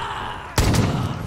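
A single loud gunshot in Far Cry 5, a sharp close crack that bursts out after a quiet lull and rings briefly before decaying.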